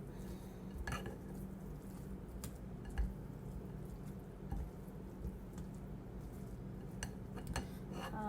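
A spoon stirring sausage and rice together in a pot, faint soft scraping and clinks against the pot with wet squishy shuffling at an irregular pace, heard alone.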